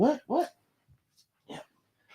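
A dog barks twice in quick succession up close, followed by quieter snuffles and one more soft bark, with long silent gaps indoors.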